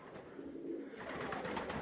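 Racing pigeons coo in a pigeon loft on a day of nasty weather, a soft low murmur of cooing that carries on throughout with a steady background hiss.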